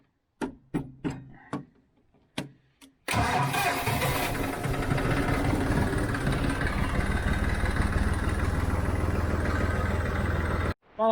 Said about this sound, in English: I'll let my John Deere warm up a little bit.